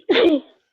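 A single short, sharp sneeze bursts out close by, then fades quickly into silence.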